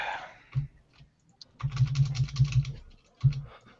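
Typing on a computer keyboard, a brisk run of clustered clicky keystrokes in bursts with short pauses, close and clear, with no one talking over it.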